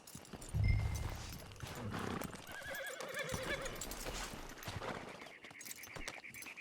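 A horse in the Western game Red Dead Online snorts and whinnies loudly near the start, then hooves clip-clop steadily as it moves, with a few fainter neighs and background game ambience.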